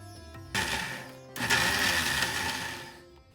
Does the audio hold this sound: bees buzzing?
no